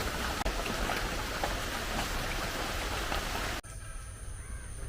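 Light, steady rain patters continuously outdoors as an even wash of drizzle, then drops away abruptly near the end to a quieter background with a faint high tone.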